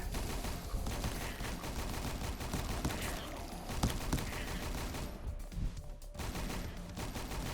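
Rapid machine gun fire blasting at zombies in Roblox Last Run, a dense continuous volley of shots with near-constant loudness and no voices.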